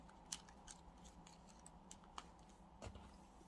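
Faint scissors snip through a ribbon streamer in a few quick, quiet cuts.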